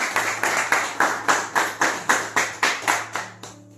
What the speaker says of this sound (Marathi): एकदा जोरदार टाळ्या वाजवा आपल्या पोरांसाठी